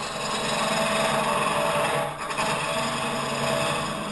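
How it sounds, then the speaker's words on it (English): Woodturning tool cutting into a spinning natural-edge wooden hollow form on a lathe, a continuous loud, close rasping scrape with a brief dip midway and no speech. "this tool really isn't meant for hollowing, but it does do a nice job getting it started"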